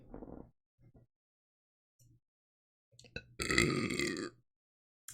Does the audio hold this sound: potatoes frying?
no